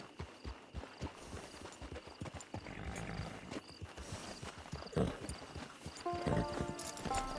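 Horse hooves clip-clop steadily in Red Dead Online on Xbox One X, a busy rhythmic patter close by with a brief whinny and game ambience building toward the end.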